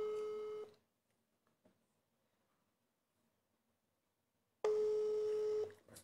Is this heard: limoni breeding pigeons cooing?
no